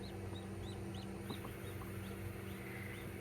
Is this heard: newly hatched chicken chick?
yes